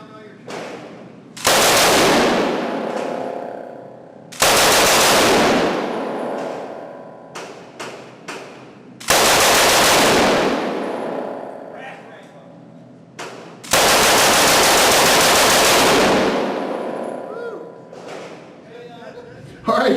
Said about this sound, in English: He allowed me to actually shoot the Lewis gun